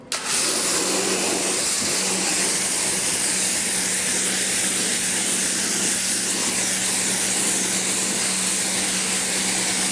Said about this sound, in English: Three sprays there, 3 sprays there, few sprays there